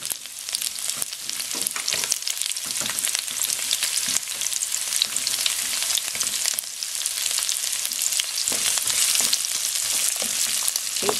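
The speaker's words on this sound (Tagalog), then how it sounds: "Okay, lagay natin itong onion." Chopped onion frying in a pan as the base for sautéed bean sprouts, giving a steady, dense sizzle with small crackles and pops throughout, close up and continuous with no talking.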